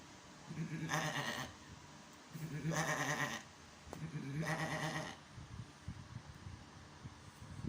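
A person's voice imitates a bleating goat or sheep, three drawn-out wavering bleats about a second each, close and clear, followed by quieter rustling.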